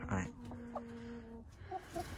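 Backyard hens cluck softly amid tonal chicken calls and a few brief clucks near the end, with a person talking over them in the background.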